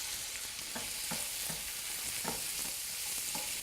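Onions and garlic fry in a stir-fry pan with a soft, even sizzle, while a utensil stirs them in a loose rhythm of light scrapes and taps, all fairly quiet.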